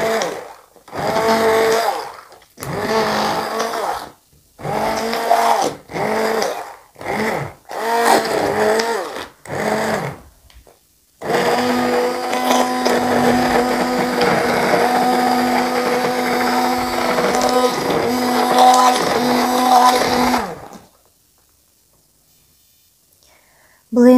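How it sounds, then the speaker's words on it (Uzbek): Blender crushing a homemade ice cream mixture: several short pulsed bursts, then one long steady whirring run of about nine seconds that cuts off abruptly. Loud and close, with no voices. "Hozir men buni boshlab olaman blenderda ezishni."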